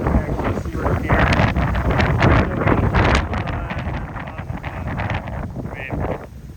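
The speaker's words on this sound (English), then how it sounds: "And we still got tons of wind." Strong hurricane wind on the Florida coast during Hurricane Helene, a loud continuous roar and buffeting against the microphone, gusting throughout with a person talking faintly underneath.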